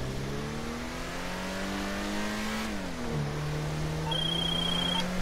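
An Ubermacht Zion Classic car accelerates from a stop in GTA Online, its engine note rising steadily, dipping at a gear shift, then climbing again, loud and continuous, with a high electronic beep near the end.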